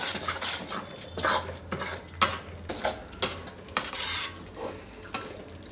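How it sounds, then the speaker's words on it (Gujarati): Adadiya mixture being stirred in a pan after milk goes in, a busy, close, rhythmic scraping and clatter of spoon on metal, with faint sizzling beneath the repeated strokes. "હજી આપણે આને પાછું દૂધ નાખશું 2-3 મિનિટ હલાવીને પછી એમ."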